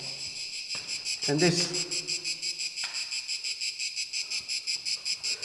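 Crickets trill steadily in a Salento vineyard near Nardò, a dense, pulsing high chirp running throughout at close range, with someone briefly speaking over it.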